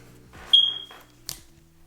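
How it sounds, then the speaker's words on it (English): A household smoke alarm in a home undergoing a bathroom remodel gives one sharp, high electronic chirp. A second, fainter click-chirp follows, with low room noise around them. "sorry, the smoke alarm is doing that"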